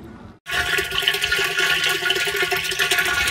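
Water rushes into a tank fitted with an automatic level control valve, starting abruptly after a brief silence and continuing as a steady, close hiss and gurgle with no talk.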